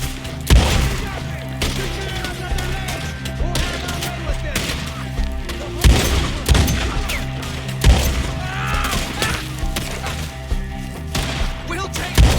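Gunfire in the Red Dead Redemption 2 video game comes as repeated loud shots and crashes over a dense, continuous battle soundscape, with sharp cracks spaced every second or two and shouted voices mixed in.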